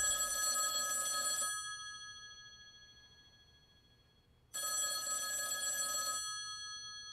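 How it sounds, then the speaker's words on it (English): An old-style telephone bell rings in two loud, bright bursts of about a second and a half each, separated by a few seconds of silence. "that phone over there is gonna ring"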